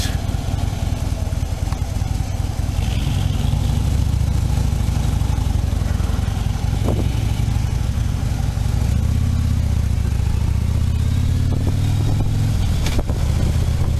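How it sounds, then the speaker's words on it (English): A motorbike or scooter rides along a road with a steady mid-pitched engine drone and rushing wind noise throughout, with the engine note rising slightly near the end. "on my motorbike,"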